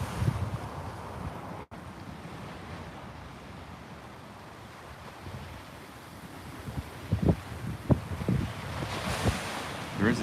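Ocean surf and strong wind along the Florida coast ahead of a winter storm: a steady rushing roar with wind buffeting the microphone, and waves surging louder toward the end.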